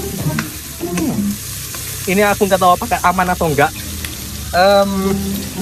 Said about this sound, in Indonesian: Dan kita tumis berapa lama aku nggak tahu ini